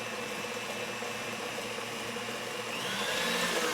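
An electric mixer whirs steadily through pasta ingredients in a home kitchen, a continuous close motor drone that rises slightly in pitch and loudness toward the end, with no talking.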